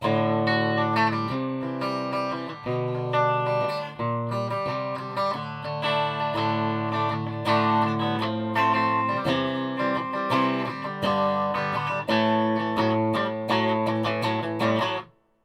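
Electric guitar chords ring out through a Carlsboro 250-watt amplifier head, notes sustaining and decaying with a spacious reverb tail until an abrupt stop.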